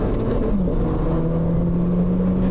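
A car's engine hums with a low, steady drone and a slight rise in pitch while the car is driven with paddle shifters, heard from inside the cabin and fairly quiet and smooth.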